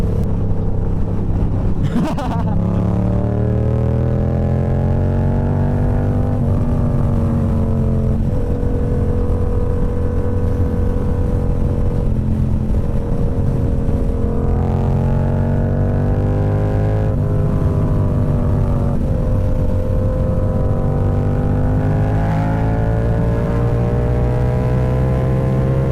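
A motorcycle engine runs loud and close during a ride, its note rising and dropping repeatedly through gear changes over a long stretch.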